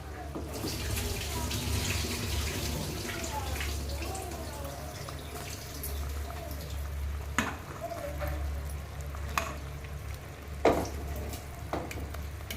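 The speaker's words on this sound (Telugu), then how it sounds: "రైస్లో వాటర్ వంపేసాను." Water pours steadily into a pot for vegetable rice, a running, splashing sound with a faint hiss and a few soft clinks near the end.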